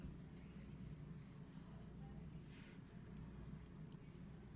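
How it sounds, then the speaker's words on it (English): Graphite pencil shading layered over an earlier tone on paper, a steady close, soft scratching stroke that runs continuously with no voices. "I'm going to go back and I'm going to layer some more graphite right on the top."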